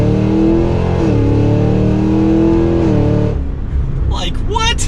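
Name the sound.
Cadillac Escalade V accelerating hard, engine revving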